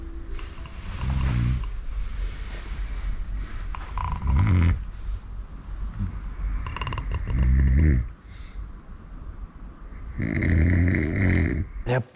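A person snoring in repeated loud, rasping rounds, each a few seconds long with quieter breathing gaps between them, heard close up.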